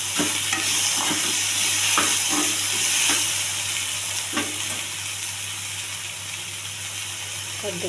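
Okra with salt sizzles and fries steadily in a pan, its constant hiss broken by occasional scraping stir clicks.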